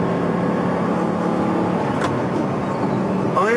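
Steady, loud hum of an Audi R8's 4.2-litre V8, shared with the RS4 saloon, droning evenly at speed throughout, with a brief rising whine near the end.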